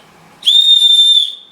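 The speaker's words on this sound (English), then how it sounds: "the whistle does work. It's reasonably loud" After a brief quiet moment, a single loud, shrill blast from a Leatherman Signal survival whistle sounds for about a second, steady in pitch, then cuts off.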